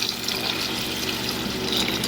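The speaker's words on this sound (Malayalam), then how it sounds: "എന്നിട്ട് ആ തേങ്ങാപ്പാൽ ഒഴിച്ച് കൊടുക്കണം." Coconut milk pours into a dish during home cooking, a steady liquid splashing and trickling that runs without a break across the clip, fairly close and even in level, with no talk.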